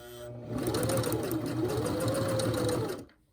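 A sewing and embroidery machine stitches a zip bag with a close, rapid mechanical whirring and needle clatter whose pitch rises and falls as the speed changes, starting abruptly and stopping after about three seconds.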